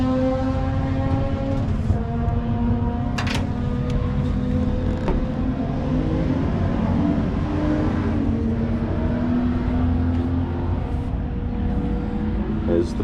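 A rear-engined Subaru Justy race car drives past with a steady, loud engine drone that holds for several seconds, and a voice talks over it.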